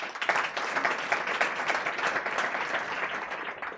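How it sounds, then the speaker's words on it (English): An audience at a Lionesses of Africa event applauds, a continuous patter of many hands clapping, heard at a moderate distance and fairly quiet, steady from start to finish. "Peter Derrick. A round of applause."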